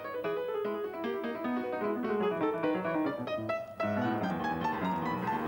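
Professional performers play live at a gala concert, a dense ensemble of sustained, harmonically rich notes with a steady melodic flow, fairly loud and continuous throughout, with no talking.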